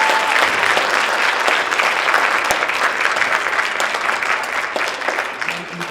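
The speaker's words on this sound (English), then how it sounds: "please give these young ladies and gentlemen a big round of applause" An audience at a school academic bowl applauds steadily, dense clapping that carries throughout and tapers slightly at the end.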